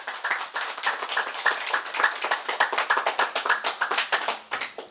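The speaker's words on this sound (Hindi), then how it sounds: "एक बार जोरदार तालियां एफपीआरटी के लिए।" An audience at a physical FPRT training session claps loudly and steadily, dense hand claps filling the whole stretch at close range with no talking.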